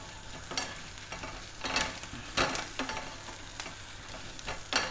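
Prawns sizzle in a pan with spring onions and chilli, a steady close frying hiss broken by several sharp stirring and tossing scrapes, with no voices.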